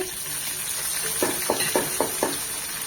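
Chopped onion and whole spices fry in oil for doi katla, giving a constant sizzle with five evenly spaced stirring scrapes near the end.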